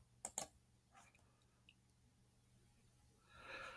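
Two sharp computer mouse clicks close together near the start, opening a file in an editing program, then faint small clicks and a brief rising hiss at the end, with no talking.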